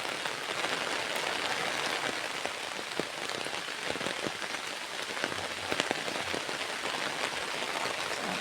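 Steady rain pours down on a hard surface, a dense, even wash of drops with scattered louder splats, continuous and close throughout, with no voices.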